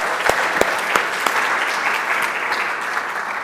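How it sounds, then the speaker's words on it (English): Audience applause for speakers and panelists at an aluminium price risk management workshop: a few sharp claps open it, then steady moderate clapping continues evenly to the end. "Let's have a big round of applause for all the speakers and panelists today"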